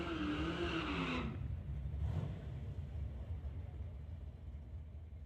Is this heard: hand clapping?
no